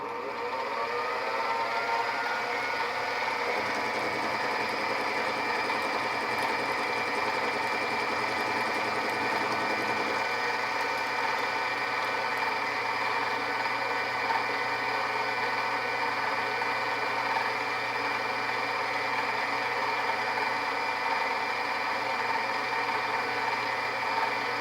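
Metal lathe taking light half-thou cuts on a part for a QCTP tool holder, a loud, continuous, steady machining hum and whine with a slight shift partway through, no voices.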